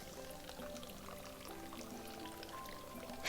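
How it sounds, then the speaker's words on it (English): Irrigation water dribbling into a small garden water feature, a faint, soft trickle and patter, steady and quiet throughout with no voices. "the irrigation system adds a little bit of water to it as it tops off, but it just dribbles"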